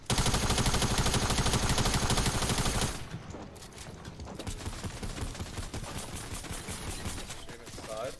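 Video-game gunfire plays at close range: a dense, loud burst of rapid automatic shots for about three seconds, then lighter scattered firing and game noise, with players talking faintly underneath.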